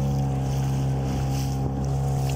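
A Katabaid-2 boat fitted with a homemade propeller speeds over waves, its engine holding a loud, steady tonal drone mixed with wind buffeting and water rush, continuous throughout with no voices.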